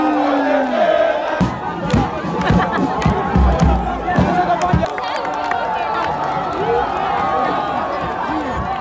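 Crowd noise at a military parade in Grand-Bassam, Côte d'Ivoire: a steady outdoor murmur of many voices with scattered shouts and cheers, continuous and fairly loud throughout.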